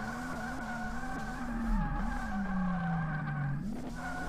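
Tires squeal under a Mazda RX-8 drifting in the driving game DRIFT21, a sustained, sliding screech over the engine drone that bends in pitch as the car slides and recovers.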